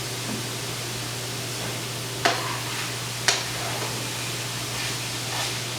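Mushroom stems sizzle softly in a pan with a dry, even hiss over a low electrical hum, broken by two sharp clicks of a utensil against the pan.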